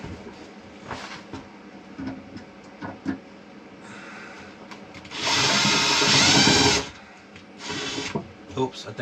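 A handheld power drill at a hobby workbench whirs in short bursts, one longer loud run in the middle and a shorter burst after, with a person talking between the bursts.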